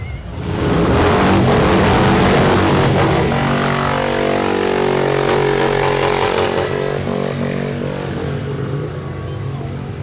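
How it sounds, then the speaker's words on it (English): Loud, sustained motorcycle engines, including trikes, roaring and revving nearby at a St. Patrick's Day parade, a dense mechanical growl that holds steady for the whole stretch. "Oh, the actual roar of the engine."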